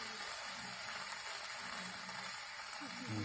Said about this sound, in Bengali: সামান্য পানি দিয়ে এটাকে কষিয়ে নিচ্ছি।